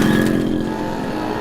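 A motorcycle engine drones close by at the start and then fades slightly as it pulls away, steady and fairly loud with no voices over it.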